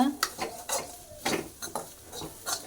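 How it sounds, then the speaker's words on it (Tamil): A spoon scrapes and knocks against a pan while masala is stirred and sautéed for fish curry, producing a rhythmic series of short clatters over a faint sizzle. "இது எல்லாத்தையும் போட்டு நல்லா வதக்கிக்கோங்க."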